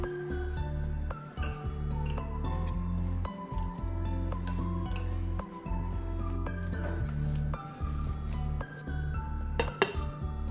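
Potato bites mixture with salt and refined oil being mixed in a bowl, producing soft repeated clinks and knocks of utensil against the bowl with gentle squishing, close and steady.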